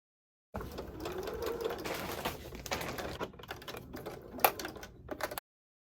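Sewing machine stitching a velvet pillowcase, a steady run of rapid mechanical chatter lasting about five seconds with brief pauses and a sharp clack near the end, close and alone with no talk.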